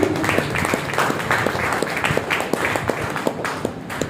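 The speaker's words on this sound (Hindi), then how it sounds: "एक बार जोरदार ताली" Loud, dense clapping from an audience at a motivational event, a hearty round of applause that runs steadily and close up for the full length, with no talk over it.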